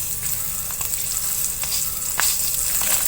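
Green chillies sizzling and frying steadily in a hot pan, a continuous close crackle with occasional stirring scrapes.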